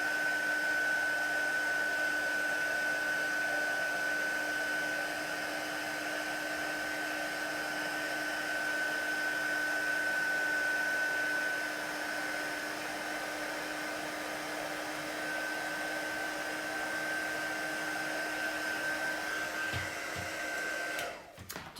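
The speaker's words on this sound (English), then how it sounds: "all I'm doing is holding my heat gun still and just moving it over the image like so" A heat gun blows hot air steadily over a card image in cardmaking, a constant close whooshing hum with a faint high whine that runs unbroken and then cuts off with a clunk at the end.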